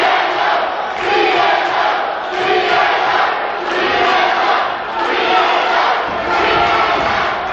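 College wrestling crowd cheering and shouting during a tag-team match, loud and continuous, swelling in waves of massed yells and whoops from a packed audience.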